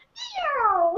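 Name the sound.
cat meow sound effect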